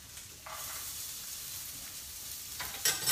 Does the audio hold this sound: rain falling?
no